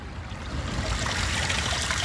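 A 1983 American Standard Plebe toilet tank refills with water, a steady rushing trickle that grows slightly louder and stays continuous throughout, heard up close.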